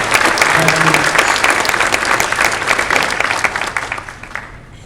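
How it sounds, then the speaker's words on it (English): A school board meeting audience gives a round of applause for a senior student's family, steady dense clapping filling the room at full strength before tapering off slightly at the end. "How about a round of applause for Christina's family?"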